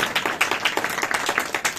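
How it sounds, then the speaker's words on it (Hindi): A church audience claps together, a quick, fairly even run of sharp hand claps that stays steady and moderately loud throughout. "ये ताली खुदावंद के बच्चों के लिए है"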